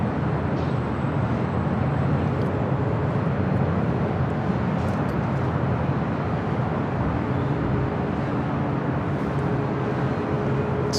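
Lufthansa airliner taxiing across the runways at LAX, a steady broadband engine roar with a low rumble that holds loud and even throughout, with no talk over it.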